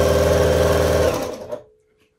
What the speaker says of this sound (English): You can see that this is super easy sewing.